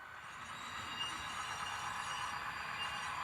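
A model train rolls steadily along a home layout modelled on the Seaboard Central, with boxcars at the head end, giving a continuous close rumble of wheels on track with no pauses.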